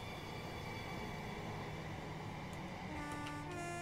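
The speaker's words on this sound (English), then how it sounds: "this is the first Armstrong Powerhouse train we got" An Armstrong Powerhouse train runs in a train simulator game, giving a steady, faint rumble with humming tones. A couple of short horn-like toots come near the end.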